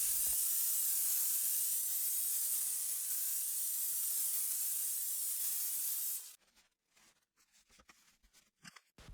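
A Dupray Neat steam cleaner with an attachment blasts a kitchen stove in a loud, steady, close hiss lasting about six seconds, then cuts off, leaving faint scattered clicks and handling sounds.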